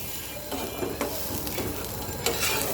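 Masoor dal mixture is cooked slowly in a pan with little oil, giving a steady low sizzle broken by several sharp scrapes and clicks of a spatula as it is stirred.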